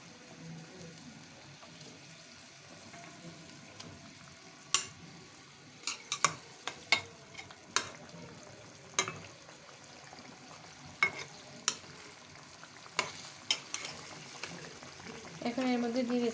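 Tilapia pieces go into a bubbling curry for a bhuna, followed by soft sizzling and a series of scattered metallic clinks and scrapes from a spoon stirring the pan, fairly quiet and close.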